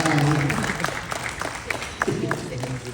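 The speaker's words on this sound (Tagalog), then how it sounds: "Konting palakpak lang po muna sa akin" A small audience at a comedy cast appearance gives a short, scattered round of clapping, thin and uneven, with a voice speaking at the start.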